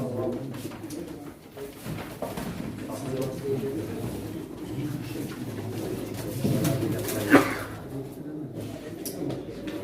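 Pigeons coo softly amid a busy background of chatter and movement at a pigeon auction in Çorum, Turkey, with a brief sharp knock near the end.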